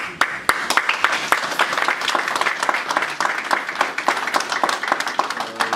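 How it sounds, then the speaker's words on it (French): An audience at a public political meeting bursts into sustained applause, dense rapid clapping from many hands close by, with a few voices faintly mixed in. "Veuillez nous acclamer."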